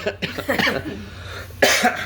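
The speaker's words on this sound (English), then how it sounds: "coughing" A single sharp cough bursts out near the end, following a stretch of soft, murmured voice.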